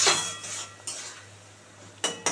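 A spoon scrapes and clinks against a pan while tangra fish masala is stirred, in a few short bursts separated by a quiet pause.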